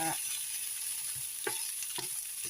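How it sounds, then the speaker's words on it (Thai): Onions stir-fried in a pan for pork and egg fried rice sizzle steadily up close, with a few soft scrapes and knocks from the spatula. "เราก็จะผัดไปอย่างนี้ค่ะ ไปเรื่อยๆนะคะ จนกว่าหัวหอมเราจะ"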